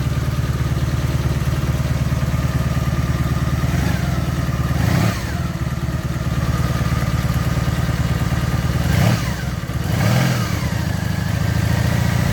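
A Honda VF750 C Custom RC43 motorcycle V4 engine idles steadily while warming up after a coolant change, a loud close mechanical rumble with a few light blips of revving.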